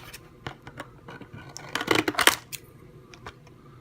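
Scissors snipping elastic bands holding a toy Digi Bird in its packaging, heard as a few sparse close clicks and snips that build into a short burst of crisp cutting and rustling.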